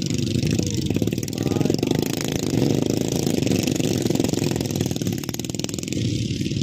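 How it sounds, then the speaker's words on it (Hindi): A Royal Enfield Bullet motorcycle engine runs steadily with a dense, rumbling exhaust note and fast mechanical clatter, loud and close, holding an even idle throughout. "बुलेट भी तो उनकी भाई अलग ही साउंड वाली है"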